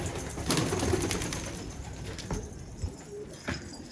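Old-breed purple Istanbul pigeons coo in a loft before being released, their soft, throaty calls repeating close by over a steady outdoor hum.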